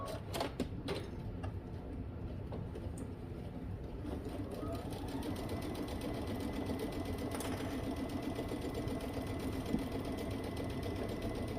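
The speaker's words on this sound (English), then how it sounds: "let's go ahead and stitch that up" Sewing machine stitching a shirt sleeve, a steady rapid mechanical whir running throughout at moderate level, with a few sharp clicks near the start.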